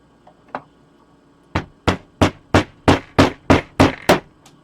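A hammer taps 3D printed plastic Springtrap parts together, a couple of light taps followed by a steady run of about nine sharp, close, evenly spaced knocks, with no talking.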